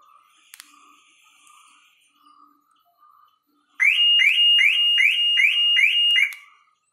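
A Maruti Suzuki car alarm, set off by holding down the key fob button, blares a loud repeating chirping siren cycle for about two and a half seconds after a few faint beeps and tones.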